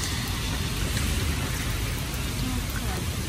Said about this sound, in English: I don't like driving under heavy rain.